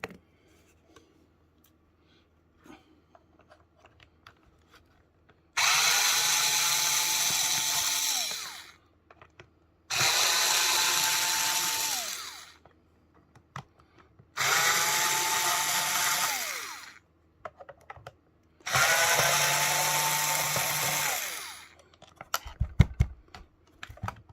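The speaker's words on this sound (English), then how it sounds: "Now with an electric screwdriver with a very thin bit or a small Phillips head, use it to take all 8 screws out." An electric screwdriver removes screws from an LG PK5 speaker in four separate close bursts of whirring, each a few seconds long with a pitch that drops as the screw frees, with quiet clicks and handling noises between them.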